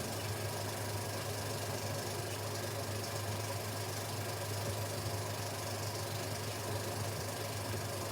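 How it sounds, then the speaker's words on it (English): A wartime Napier Sabre aircraft engine runs steadily, a dense, even mechanical drone with a low throbbing hum, constant in level throughout, heard through old film sound with a rough, noisy quality. "such as aircraft engines. This is the famous wartime Napier Sabre."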